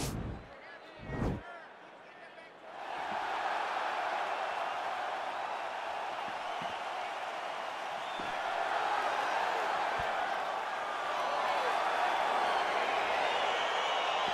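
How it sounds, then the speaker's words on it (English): A crowd cheers in a UFC 4 video game featherweight fight, a sustained roar that swells steadily after a couple of sharp impacts at the start. "crowd getting excited as this fight gets underway"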